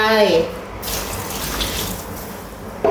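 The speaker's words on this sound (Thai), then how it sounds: "ใส่น้ำดื่มสะอาดลงไป" Clean drinking water poured into a container of salted kaffir limes for candying, a steady rushing splash lasting about two seconds before cutting off.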